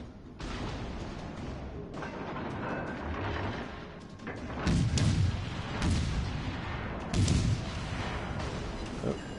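Warship gunfire in the video game World of Warships: loud deep booms repeated in several heavy salvos, each with a rumbling tail, over a constant background roar.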